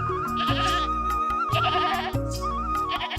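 A goat bleating in an animated story, several loud, wavering bleats in quick succession, close and clear with no talking.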